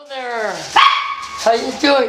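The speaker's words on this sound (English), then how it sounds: "That's my dog." A dog barks nearby in short, sharp yaps while a person talks over it in a friendly greeting.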